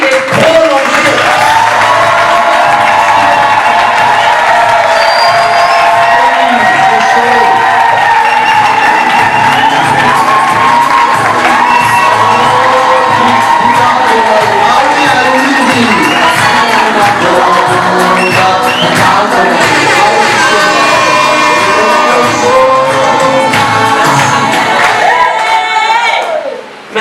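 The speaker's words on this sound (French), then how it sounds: "nous allons le témoigner par nos acclamations nourries et prolongées" Wedding guests cheering and applauding loudly for a long stretch, a roaring crowd with shouts and whistles layered over continuous clapping, voices mixed through it.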